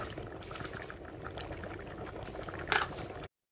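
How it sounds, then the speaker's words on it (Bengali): Dal and rice boil together in a pot with a busy, continuous bubbling and gurgling, ending in a brief louder clink or splash just before the sound cuts off. "ডাল আর চালটা যখন ফুটে এসছে"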